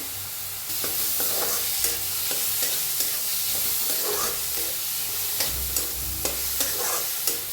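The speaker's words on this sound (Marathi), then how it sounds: "एक कांदा कापून घेतलाय बारीक असा ते बी का भाजून घेऊया" Finely chopped onion fries in a pan for bread pakora, a steady loud sizzle and hiss running throughout, broken by repeated scraping stirs and small clinks of the spatula, close up with no talking.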